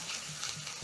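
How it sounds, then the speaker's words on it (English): Onions and garlic tossed in a frying pan with black pepper and salt for sweet chilli fries, giving a short, close, steady sizzle with soft stirring scrapes and no talking. "Toss the onions and garlic so that they can be coated with the black pepper and salt."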